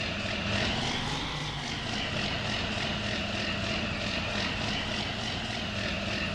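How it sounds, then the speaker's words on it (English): A tractor engine in the Farming Simulator 19 video game drones steadily at a constant loud level, with a pulsing, whirring tone that runs through the whole stretch and no talk. "Turn the engine off for now because we don't need the tractor at this second"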